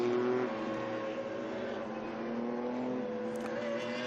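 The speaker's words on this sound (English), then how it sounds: "They're now coming through turn 16, safety car pulling away, and the field under the control of the race leader, Julien Henrion." Race cars in a 2022 Spa heat race roll through turn 16 at Spa behind the safety car, a steady, loud engine drone with harmonic whine rising and falling as the pack passes.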